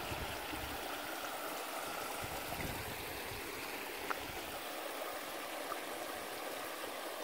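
Clear stream water flows in Colorado Bend State Park, a steady soft gurgling rush with small splashes, faint and continuous, with no voices.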